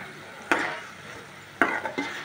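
Onion and tomato paste frying in a pan, a low sizzle broken by a few sharp scraping stirs of a utensil against the pan.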